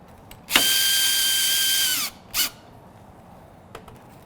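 A power drill drives screws back into a Toyota headlight during a JW Speaker 8800 low-beam conversion: one loud whirring run of about a second and a half that winds down, then a second short burst.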